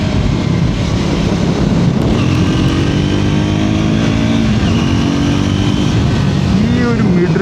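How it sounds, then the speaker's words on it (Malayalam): Triumph Scrambler 400 XC motorcycle exhaust note on a winding road while downshifting, a loud continuous rumble with rising and falling revs, heard under wind noise from the riding rider. "സൈലൻറ്റിൻ്റെ ഈ ഒരു സൗണ്ട് ഭയങ്കര അഡിക്റ്റീവായി"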